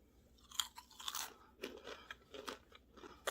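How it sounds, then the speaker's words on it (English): Fried Cheerios, salty, garlicky and buttery, crunched up close in a run of crisp, irregular bites and chews, with no talking. "Fried Cheerio ASMR"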